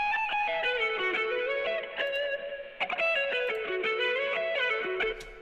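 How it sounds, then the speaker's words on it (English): A rock music mix processed with Valhalla Vintage Verb reverb plays on its own, with distorted sustained guitar chords and melodic lines that ring out with a mild sense of space. "And then I have some Valhalla vintage reverb."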